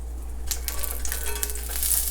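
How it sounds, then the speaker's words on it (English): Vegetarian patties from Trader Joe's fry in a pan, giving a steady close sizzle with scattered crackling pops across the whole clip and no talking. "so we're gonna fry them for about 2 minutes on each side"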